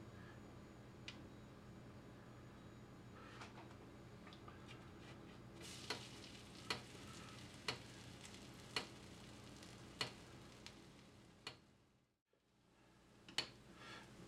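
A rye bread Reuben sandwich toasting in olive oil in a pan gives a quiet, steady sizzle with occasional soft ticks and pops, close and faint, with no talking.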